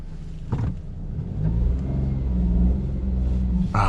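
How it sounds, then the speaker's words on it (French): A Fiat Panda engine revs up during a hill start on a slope, a low rumble that rises and holds steady with a click near the start and a sharp noise at the end. "Petit test de démarrage en côte."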